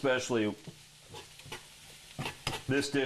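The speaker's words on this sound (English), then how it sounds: "we're going to give our little Brussels sprouts a little spin" Brussels sprouts sizzle as they are tossed in a hot pan, a quiet hiss with a short stirring scrape, mostly under a person talking.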